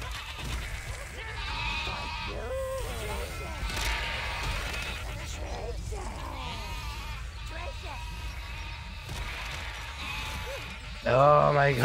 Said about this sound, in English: Sheep massacre!